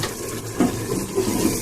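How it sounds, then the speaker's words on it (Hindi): A small splash of water poured from a tap into a pan of spiced curry, a soft running trickle lasting a moment, close and alone. "हम इसमें सिर्फ हल्का सा पानी डालेंगे,"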